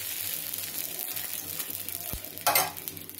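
Biri pitha frying in a little oil on a pan, a steady close sizzle with a sharp tap and a brief louder hiss of spattering near the end, no talking.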